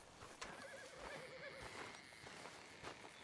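A horse in Red Dead Redemption 2 gives a wavering whinny over clip-clopping hooves, moderately close against soft background noise.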